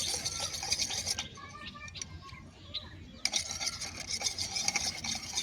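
Fevikwik is stirred into Fevicol glue, producing a continuous scraping, rasping rub with brief pauses, close up and moderately loud.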